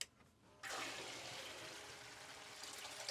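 Water pours steadily through a gold sluice box running wet dirt, a constant broadband rush that starts abruptly after a brief quiet moment and continues without letup.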